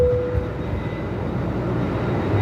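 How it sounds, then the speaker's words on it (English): Qantas 464 airliner on an intersection departure from runway 34 at Melbourne Airport in strong 45-knot wind, a steady low engine roar with wind rumble throughout. "the next departure is Qantas 464 here, heading off of runway 34"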